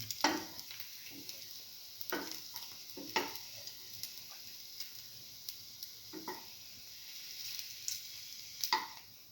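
Cinnamon French toast frying in a pan gives a faint, steady sizzle with scattered soft scraping and tapping from the utensil, quiet and fairly close.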